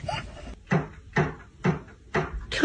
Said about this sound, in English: Somebody, knock on the door.